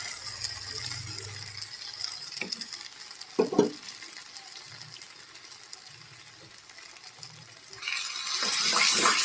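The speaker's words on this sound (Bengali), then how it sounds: "এবার দেখো ভালো করে আমি মিশিয়ে দিয়েছি মশলার সঙ্গে আর নারকেলের যেই পেস্টটার সঙ্গে" Coconut paste with spices cooks in a pan while being stirred, giving a soft, continuous sizzle with occasional scraping knocks, rising into a brighter, louder hiss near the end.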